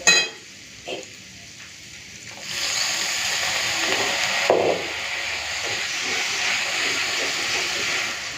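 Water poured into a pan of fried onion, garlic and ginger bursts into a steady steamy hiss and sizzle after a quiet start, with a brief louder flare midway, close and with no talking.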